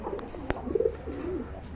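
A pair of jet-black German Beauty Homer pigeons gives soft, low cooing, with a few brief murmured calls rising over steady background noise at close range.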